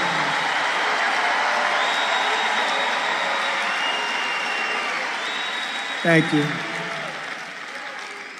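Large political rally crowd in Georgia applauding and cheering, a steady dense roar of clapping filling the whole stretch, with someone speaking briefly over it near the end.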